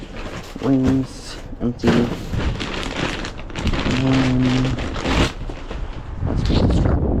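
Gusty wind blowing hard outdoors while trash picking at a dumpster, a steady broadband roar that swells and rises toward the end, with someone talking over it in short bursts.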